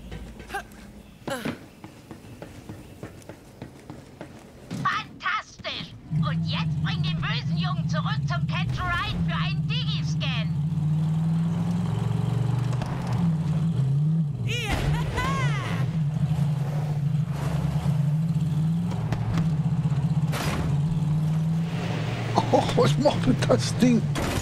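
A car in the video game Borderlands 3 drives along with a steady low engine drone for most of the stretch, while game voices and effects sound over it.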